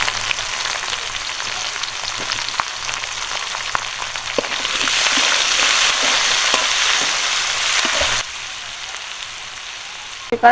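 Dried red chillies, bay leaf, cumin and chopped onion frying in hot oil for a mutton curry: scattered crackles and pops at first, swelling into a denser, louder sizzle midway before easing off near the end.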